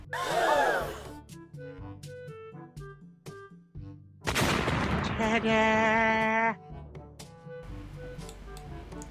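A blast in Roblox Wacky Wizards bursts loud and sudden, followed by ringing magical tones as it blows open a cave wall, with game music and effect sounds around it.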